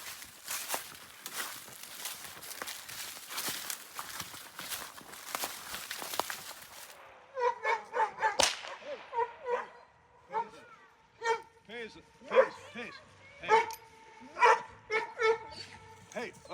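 A dog barks in sharp, repeated bursts at a remote off-grid Alaskan cabin by a low spring river, following a stretch of rushing water noise, with people talking nearby.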